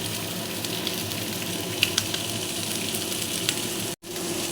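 Leftover rice is stir-fried and mixed in a hot pan, giving a steady close sizzle with faint scraping ticks from stirring and one brief dropout near the end.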